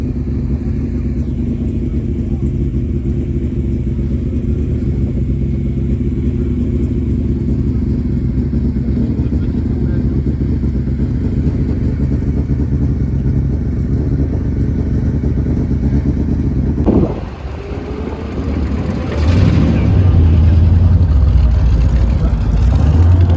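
Classic racing car engines idle and rumble together on the grid at the Le Mans Classic start, a steady low drone of several cars at close range, briefly dipping before a deeper engine swells up loudly near the end.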